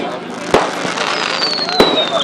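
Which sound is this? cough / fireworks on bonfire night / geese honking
fireworks on bonfire night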